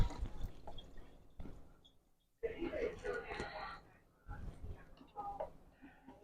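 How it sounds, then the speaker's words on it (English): Running tap water rinses a tablespoon in a home kitchen during meal prep, a bright splashing burst of a couple of seconds set between stretches of nearby talk. "We're going to rinse out our tablespoon so we can add some garlic."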